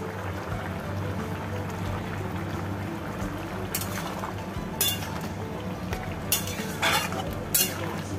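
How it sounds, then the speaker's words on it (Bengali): Bottle gourd and spices are stirred in a pan over a low, steady background hum, with several sharp scrapes and clinks of the spoon against the pan toward the end. "লাউটা দিয়ে খুব ভালো করে নেড়ে চেড়ে মিশিয়ে নিতে হবে মশলার সাথে।"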